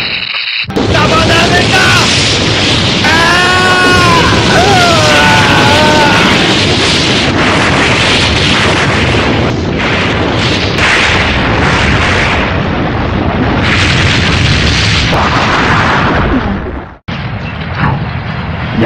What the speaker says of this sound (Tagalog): Gagamitin na niya ang ray gun niya! Flame Power!